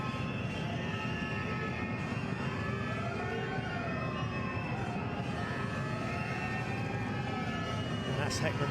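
Basketball arena siren at a Champions League game between Brose Bamberg and Telenet Giants Antwerp, a rising and falling wail sweeping repeatedly above a loud, steady crowd roar, with a commentator talking over it.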